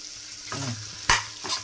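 Drumstick pieces and cucumber cook in hot oil for a tamarind curry, giving a soft steady sizzle with a few sharper stirring scrapes and clinks, close and moderately loud, with no talking.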